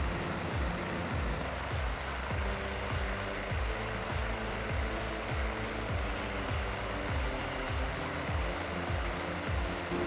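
BK117 helicopter in the FlightGear flight simulator game: a steady rotor and turbine drone with a regular low thumping blade beat, loud and continuous throughout, no talking.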